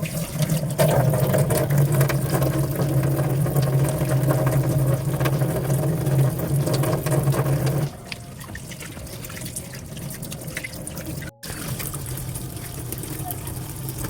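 Hands washed under a running tap, a steady close rush of water that stops partway, leaving quieter splashing and drips while a voice talks over it.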